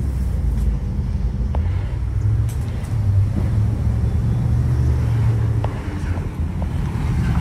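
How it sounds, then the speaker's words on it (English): A debris truck and a big trailer drive past on a residential road strewn with tree debris after a hurricane, a steady loud engine rumble with wind buffeting the microphone throughout. "there goes a debris truck and a big trailer"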